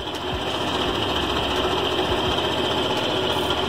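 A scooter engine under home repair runs steadily at a fast, buzzing idle with an even mechanical rattle, close and loud throughout without voices.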